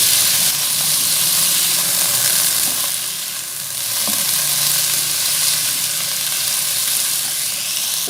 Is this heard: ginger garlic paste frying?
yes